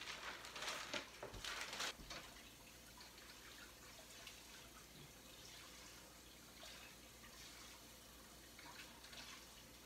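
Cold water running from a kitchen tap while lake trout fillets are being prepared, a steady trickling stream with a louder splashing burst near the start, then a softer continuous flow.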